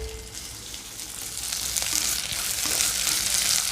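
Onions and chillies fry in hot oil with a steady close sizzle and crackle, a few scraping stirs breaking through.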